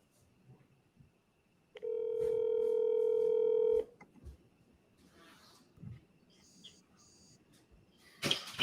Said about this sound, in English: I'm going to give this guy a call, see if I can get him on the phone